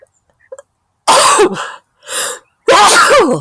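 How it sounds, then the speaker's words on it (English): A loud sneeze bursts out, followed by a couple of short, breathy bursts, with a faint tinkling of chimes in the quiet before it. "That was an abortive sneeze."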